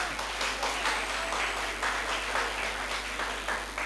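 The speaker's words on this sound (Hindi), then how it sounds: "प्री 9 ए क्लास से आपकी तालियों की गूंज में मोहम्मद अब्दुल्ला वकार।" A school audience at a Seerat ul Nabi event applauds, a dense, steady burst of many hands clapping that fills the short moment at moderate loudness.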